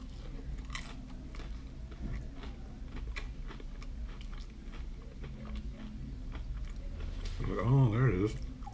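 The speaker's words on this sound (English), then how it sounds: "Put it in your mouth, you chew it up" Flamin' Hot Mac N' Cheetos are chewed close to the mic with a steady run of crunchy bites and mastication, and a brief voice comes in near the end.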